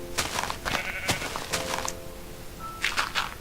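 Sheep bleating in the video game Minecraft, several short bleats scattered at close range over a low background hum, with a few soft game thuds.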